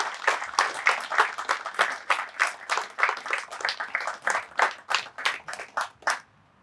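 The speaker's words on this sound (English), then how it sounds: "Let's give a big round of applause to this candidate for his outstanding accomplishment." Enthusiastic applause for a graduating officer candidate at an Army National Guard officer candidate school ceremony, a crowd clapping steadily in rhythmic bursts for about six seconds before stopping abruptly.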